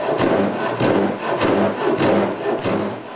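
Handsaw with a coarse 15-tooth blade cutting a wooden rail, loud rhythmic rasping strokes back and forth, about six close strokes in three seconds, alone without talk.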